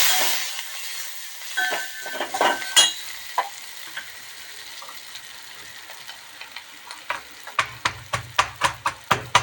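Garlic sizzles in a hot pan of tempering for dal with asafoetida, with a bright hiss at first, broken by stirring scrapes, then a run of sharp, evenly spaced taps near the end.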